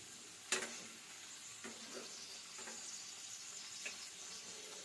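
Tomatoes cooking with drumstick leaves in a pan give a steady, close sizzle, broken by several louder scraping stirs.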